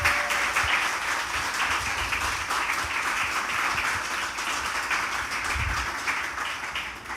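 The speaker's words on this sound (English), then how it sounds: "give them a big round of applause to welcome them" Audience applause welcomes two poets onto the stage at a literary event: a steady, dense clapping that holds at an even level throughout.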